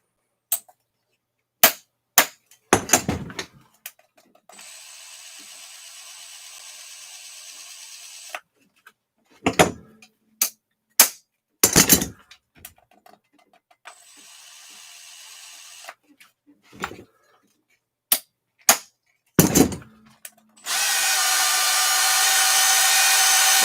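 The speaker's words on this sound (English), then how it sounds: "Give it a couple whacks." Sharp, close knocks of something whacking a part of an Arrma Outcast 8s RC car come in scattered pairs and singles, separated by stretches of steady machine whirring, and a louder, continuous whoosh closes the stretch.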